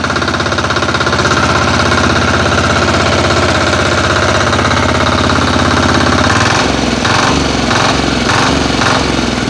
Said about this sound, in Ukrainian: Так відгукується двигун.